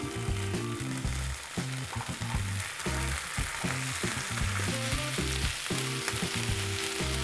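Cabbage with finely diced garlic and tomato paste sautéing in a pan, a steady loud sizzle with repeated stirring scrapes and clinks throughout, no talking.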